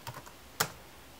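An Asus laptop keyboard is typed on lightly, giving a few soft close keystrokes and one sharper tap in a quiet room.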